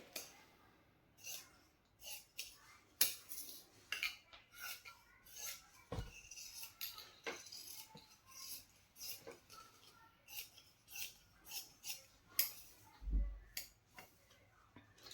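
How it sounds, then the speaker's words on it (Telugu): Scissors snipping through a piece of blouse fabric, heard up close as a quick irregular series of faint, crisp clicks and crunches with small pauses between them, in an otherwise quiet room. "ఇప్పుడు ఈ పీస్ని మనం ఇలా కట్ చేసేసుకోవాలి"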